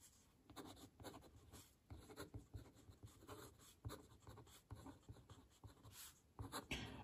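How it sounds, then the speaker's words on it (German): A fountain pen glides over smooth X17 paper from 2020, giving a faint, continuous scratching with soft rhythmic strokes, heard up close in a very quiet room. "der Füller, der gleitet hier auch richtig schön schwungvoll über das Papier"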